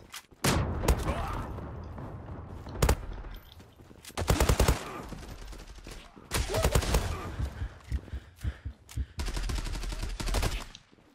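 Pistol gunfire in the Zula online shooter, with sharp bursts of shots arriving in uneven clusters through a ranked match and loud against the quieter game ambience between volleys.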